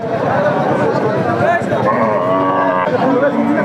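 Cattle lowing at a crowded Bangladeshi cattle market, among large fattened cows, the moos steady and fairly loud beneath constant crowd chatter and nearby voices.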